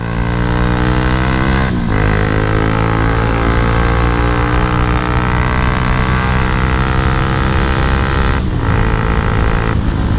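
A Bajaj Pulsar 220F motorcycle engine with over 100,000 km on it drones loudly and continuously while riding, with a steady harmonic hum and brief dips where the throttle eases or the gear shifts.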